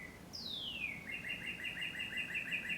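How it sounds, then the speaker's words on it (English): Songbirds call outdoors through open French doors at the back of a house: a rising whistle, then a rapid run of repeated high chirps, soft and somewhat distant over faint room hiss. "Can you hear the birds? I have my French doors open to the back."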